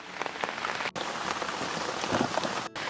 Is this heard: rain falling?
yes